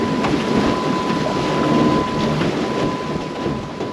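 A boat pushed by a Mercury Avator electric outboard motor heads upwind, giving a steady, loud rushing drone under heavy wind buffeting, with a faint constant whine and no talking.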